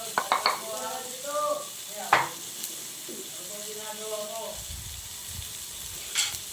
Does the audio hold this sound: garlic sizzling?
yes